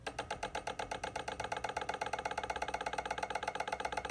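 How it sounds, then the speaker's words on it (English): An EVAP purge valve control on a demonstrator clicks in a fast, regular rapid-fire ticking pulse, close and steady, with a faint mechanical buzz under each click. "13 is our purge valve control. See if we can hear this."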